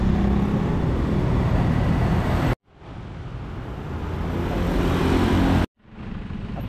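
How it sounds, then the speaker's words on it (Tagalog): Rush hour traffic on Meralco Avenue, a continuous close roar of passing cars and heavier vehicles, steady and loud, broken by two brief cuts. "Traffic dito guys na Meralco Avenue pag oras ng rush hour"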